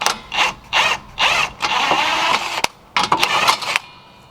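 A hand ratchet loosens a nut on the axle of a 2000-2006 Lexus LS430, giving several close bursts of rapid clicking in an uneven rhythm, with a sharp metallic knock partway through and short pauses between strokes.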